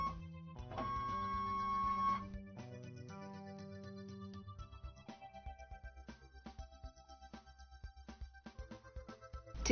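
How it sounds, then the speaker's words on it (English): A Precifill pump fills a syringe with a quiet mechanical whir and hum, ending in a rapid train of soft, regular clicking pulses, with no talk. "Fill the target syringe by pressing start."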